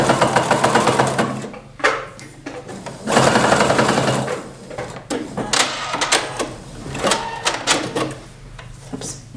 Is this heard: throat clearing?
no